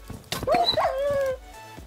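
A dog gives a couple of short yips, then a drawn-out whining whimper, close by and fairly loud.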